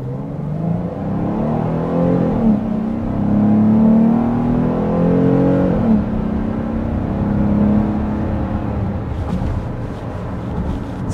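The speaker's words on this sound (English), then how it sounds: "Even under really hard accelerations, it stays refined, it stays nice and not strained sounding." The 2024 Kia Carnival minivan's engine pulls under hard acceleration, a smooth rising whir and hum heard from inside the cabin, easing off near the end.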